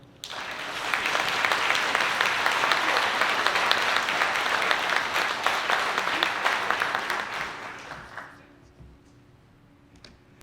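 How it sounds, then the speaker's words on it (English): Audience at an arts complex anniversary gala breaks into sustained applause, a dense steady wash of clapping that holds for about eight seconds and then fades quickly to near silence. "Please applaud"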